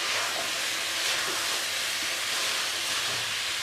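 Chana dal fries in a pan over a medium-low flame, giving a steady, loud sizzling hiss that runs unbroken throughout with faint scraping underneath.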